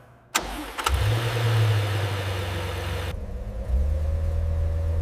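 A restored 1968 Toyota 2000GT engine cranks and catches, then settles into a steady low idle rumble, close and fairly loud, with no voices.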